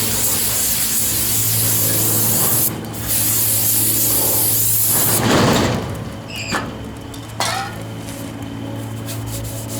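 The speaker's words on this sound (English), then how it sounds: "I hit it with some primer." Aerosol primer paint hisses out in long continuous bursts onto a cleaned, scuffed junkyard engine being readied for a Mustang, with short pauses between passes and a few light clicks of the can.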